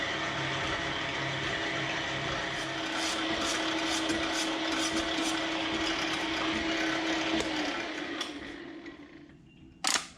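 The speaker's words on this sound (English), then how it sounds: "so I'll just pump it straight into this drum" A pump draining coolant from an old Powamac power hacksaw into a drum, a steady close whirring and sloshing drone that holds evenly for several seconds before tapering off near the end.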